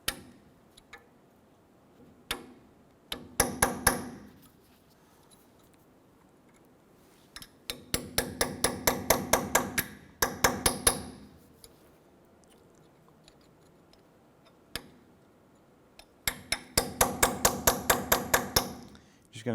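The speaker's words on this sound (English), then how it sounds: "we're going to go ahead and use a punch. And just try and work out the remainder pieces of that" Metal hammer blows driving a punch against broken cotter pin remnants in the tie-rod or ball-joint stud of a 1993-1997 Ford Ranger front suspension, sharp close taps landing in three quick rapid bursts between isolated single strikes.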